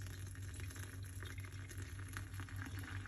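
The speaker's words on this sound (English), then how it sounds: "we're going to get the hot water, and we're going to put the hot water into it just like this." Hot water, about two cups, is poured into a container while making a grandfather's recipe, a steady, continuous splashing and gurgling pour, faint and close with a low hum underneath.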